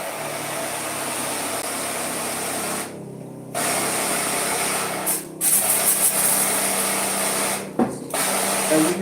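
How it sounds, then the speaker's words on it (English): A high pressure washer machine runs steadily while servicing a split AC indoor unit in place, a continuous spraying hiss with brief pauses where the flow cuts off before resuming. "when you do the high pressure service on the spot, you have to use pressure machine"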